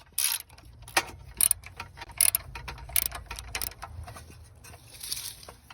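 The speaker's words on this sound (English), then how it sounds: "So the plan is to use a ratchet wrench and get the bolts off of the facing on this this part right here" A ratchet wrench loosens bolts on the facing cover of a generator whose pull cord has broken. It gives close, intermittent bursts of sharp clicking with short quiet gaps between strokes.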